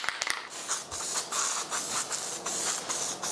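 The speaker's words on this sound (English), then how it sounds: "So we're going to apply some spray adhesive on the back of our sheet." Aerosol can of old spray adhesive misting onto the back of a paper sheet for a woodworking template, a series of short hissing bursts with brief gaps, close and moderately quiet.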